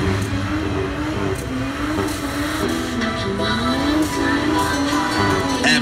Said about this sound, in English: Absolutely no problems with that six-cylinder turbo smoking the rear end